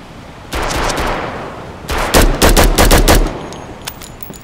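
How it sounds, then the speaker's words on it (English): Enemy gunfire in the wintry shooter game Road to Vostok: a loud sustained automatic burst, then a string of rapid, punchy bursts in quick succession, close and harsh. "He was shooting me at distance."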